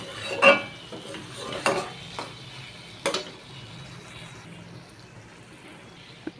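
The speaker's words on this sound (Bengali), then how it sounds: "এবার আলুটার সাথে এই মশলাটা ভালো করে মিশিয়ে নেব" Potatoes being mixed in a pan with a mustard and poppy seed paste: a few sharp, close utensil clacks against the pan early on, then softer scraping and stirring that trails off, with no talking.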